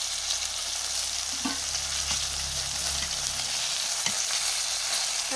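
Tilapia fish frying in hot oil, a steady broadband sizzle that runs continuously and fairly close, with a few faint clinks from the pan partway through.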